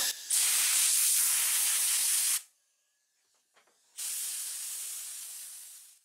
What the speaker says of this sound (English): get your blow hose and blow it off